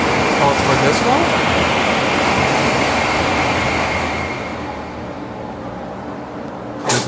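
A Japanese bullet train rushes past at a station, a loud sustained roar and rumble that fades after several seconds, ending with a brief sharp clack.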